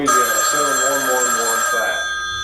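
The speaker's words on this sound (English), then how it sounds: "He's got his phone ringing in the background." A telephone rings steadily in the background, its sustained electronic tones running under continuous nearby talk and fading near the end.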